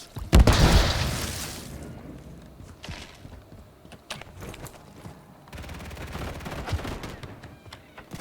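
Gunfire and a stun grenade in the 2023 Call of Duty: Modern Warfare 3 multiplayer: a loud bang up front, then scattered bursts of shots and clicks continuing under faint voices.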